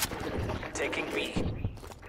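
Gunfire in a Call of Duty Black Ops Cold War match, including a sniper rifle shot among several sharp reports and rattling shots, layered with a talking voice and busy game ambience.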